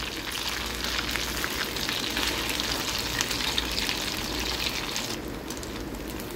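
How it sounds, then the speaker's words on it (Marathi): Crispy snack pieces frying in hot oil after being flipped to cook the second side, giving a steady, close, dense sizzle and crackle throughout with no talking. "आता पलटून घेऊन दुसरी साईडने मी तळून घ्यायचे आहेत।"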